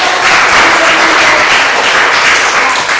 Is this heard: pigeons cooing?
no